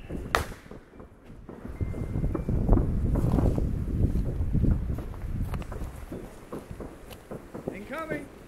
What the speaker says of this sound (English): It's the wind.